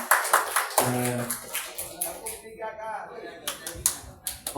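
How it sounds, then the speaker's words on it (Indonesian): A small group claps sparsely and unevenly in a room, with scattered individual claps mixed with voices talking over them. "Berikan tepuk tangan."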